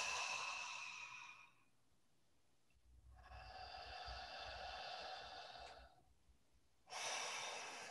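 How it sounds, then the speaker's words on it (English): Deep breathing in a breathwork session: a long inhale, then a slow drawn breath, then another breath begins. The breaths are close and quiet, with no talk. "Big breath."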